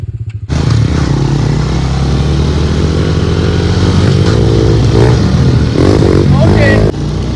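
Honda pit bike motorcycle engine starting and then revving hard close by, a loud sustained buzzing roar with shifting pitch that drops at the end, while people talk over it.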